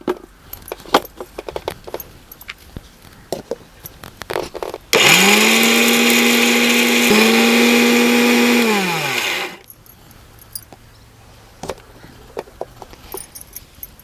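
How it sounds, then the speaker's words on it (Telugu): A mixer grinder grinds cooled mustard seeds and fenugreek into powder, whirring loudly for about five seconds, briefly dipping in pitch midway, framed by scattered clicks and clatter before and after. "ఈ చల్లారిన తర్వాత మిక్సీ పట్టుకోవాలి"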